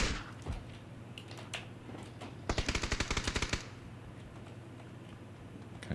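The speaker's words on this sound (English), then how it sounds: "He's getting sniped from somewhere, and then that guy" Rapid burst of video game gunfire, a dozen or so sharp shots in quick succession over about a second, fairly loud against a low steady game background hum, with a few faint isolated clicks around it.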